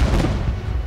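Fireworks go off in the zombie train game Zompiercer as a rumbling burst of low booms that fades, with a sharp new blast at the very end.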